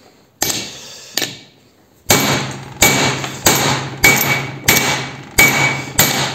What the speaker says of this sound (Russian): Вкидываю болт и начинаю сюда вот сандалить кувалдой.